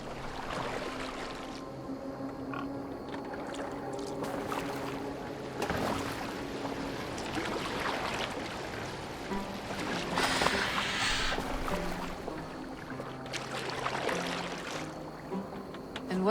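A boat is rowed across the water in Assassin's Creed Valhalla, with oars splashing and dipping in a loose repeating rhythm over a steady wash of water and wind, close and moderately loud, with no speech.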